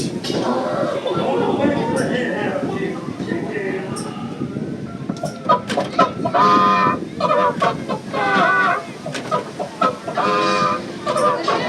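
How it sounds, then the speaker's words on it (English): At an amusement park, chickens cluck and squawk repeatedly over a busy backdrop of music and voices, the calls fairly loud and close. "Dancing chickens."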